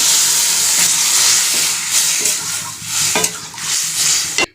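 Potatoes and brinjal frying in a pan as water is poured in, giving a loud, dense hissing sizzle with steam, broken by a few clattering stirs and a sudden knock at the end.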